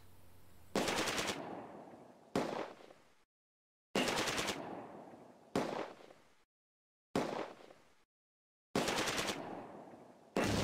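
Gunfire is exchanged in the WWII video game Close Combat: A Bridge Too Far, with loud repeated machine-gun bursts, each cut off sharply and separated by short silences.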